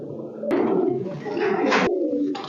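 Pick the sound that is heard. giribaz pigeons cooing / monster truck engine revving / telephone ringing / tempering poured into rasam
giribaz pigeons cooing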